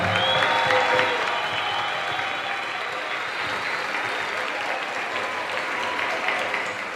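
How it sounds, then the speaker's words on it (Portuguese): Audience applause for the Intercept newsroom staff, a dense, steady wash of clapping from a large crowd that holds at an even level throughout, with no voices standing out. "Eu vou pedir para que a redação do Intercept levante e a gente aplauda toda essa galera que está aqui hoje."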